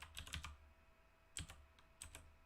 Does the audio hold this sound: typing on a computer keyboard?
yes